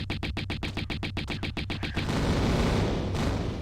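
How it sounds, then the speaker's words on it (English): Rapid gunfire in the video game Tomb Raider, a fast regular burst of about a dozen loud shots over two seconds, then a dense rumbling wash of noise and impacts, close and without speech. "we want to take a few steps forward and trigger this first guy, and start shooting"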